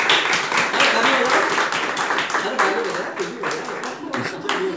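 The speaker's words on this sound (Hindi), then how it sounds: "तालियां" A room of people at a children's home claps together, dense and loud throughout, a steady wash of applause with a few sharper claps standing out before it tapers slightly.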